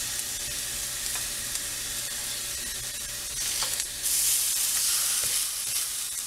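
Pork chops brown in a dry pan with no oil, rendering their own fat, giving a steady loud sizzle and frying crackle throughout that swells louder partway through, with no talking.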